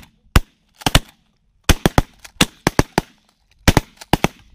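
Shotgun blasts while duck hunting mallards, sharp loud reports fired in quick clusters of two and three, about a dozen shots spread across the stretch with silence between volleys.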